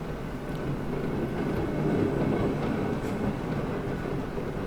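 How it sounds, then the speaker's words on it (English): Tram passing through a city in Euro Truck Simulator 2, a steady low rumbling and rolling rail noise that swells slightly in the middle and holds at a moderate level. "It has functional trams."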